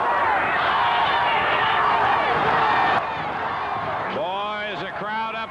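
Large crowd roaring steadily at a wrestling match in the Mid-South Coliseum, Memphis, Tennessee, a dense, loud wash of cheering that drops a little before a voice begins talking over it.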